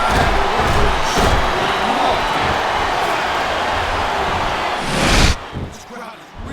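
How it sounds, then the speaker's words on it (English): A capacity arena crowd roars and cheers continuously in the WWE SmackDown vs. Raw 2007 video game, with muffled thuds and a brief swell near the end. "It sounds like this capacity crowd is something out of their minds"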